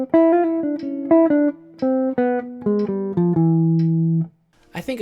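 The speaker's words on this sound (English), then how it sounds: "The second lick today is over a 2-5-1 and sounds like this." A jazz guitar plays a lick over a 2-5-1, a quick run of clean plucked notes ending on a long sustained low note, close and alone.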